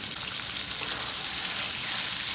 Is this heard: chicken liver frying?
yes